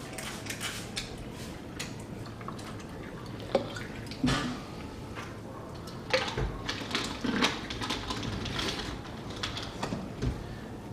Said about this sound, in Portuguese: Vou misturar a água.